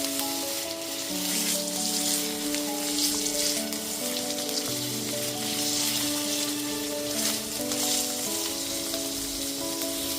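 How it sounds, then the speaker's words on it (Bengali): Eggplant pieces fry in oil over a medium gas flame for a winter mixed-vegetable curry, giving a steady, dense sizzle that runs unbroken throughout with soft background music and no voices. "গ্যাসের ফ্লেমটা মিডিয়ামে রেখে বেগুনগুলো নাড়াচাড়া করে ভেজে নিয়েছি"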